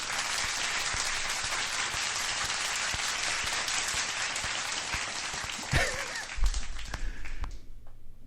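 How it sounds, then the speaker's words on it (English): Warm studio-audience applause greeting a fighter guest on a combat sports show, steady dense clapping that thins and fades toward the end as a voice begins. "a warm round of applause for our friend, Jordan Leavitt."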